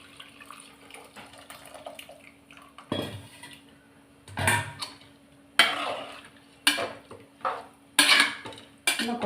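Metal utensils clink and knock against a pot and dishes while liquid is strained and poured into a one-pot coconut milk rice, in sharp separate bursts over a quiet background with no talk.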